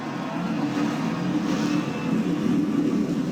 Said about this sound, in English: the sweet sound of the engines firing up on these drivers